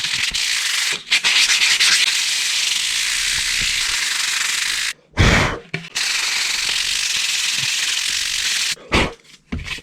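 Sandpaper rasps loudly and continuously against a primed 3D-printed part in close strokes, rubbing over layer lines and smooth primer, with brief pauses and a short thump between passes.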